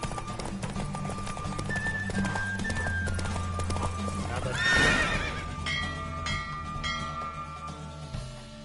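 Galloping hooves in a horse race in the video game Witcher 3 drum in a rapid, steady rhythm, joined midway by a loud horse whinny, over game music.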